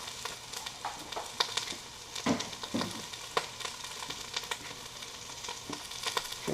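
Meat browns in a black iron pot over coals with a steady, crackling sizzle, broken by occasional louder pops and scrapes of stirring, close and fairly quiet throughout.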